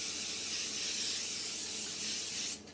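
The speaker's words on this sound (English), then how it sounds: "I need to spray my pan" A steady aerosol hiss of cooking spray being applied to a baking pan for a couple of seconds, close by, then cutting off abruptly.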